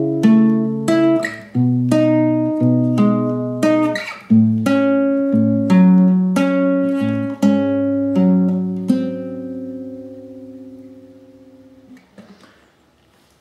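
Fingerpicked acoustic guitar plays the arpeggiated bridge, with a steady rolling pattern of clear plucked notes that settles into a final ringing chord and fades out.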